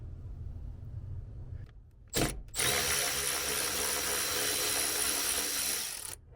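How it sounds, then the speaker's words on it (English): A deep 10mm socket spins off the nuts holding a car door checker, giving a short ratcheting burst followed by a sustained loud whirring run of a few seconds, close up and with nobody talking. "Now I'm just going to use a deep 10mm socket without the extension to get the 2 10mm nuts."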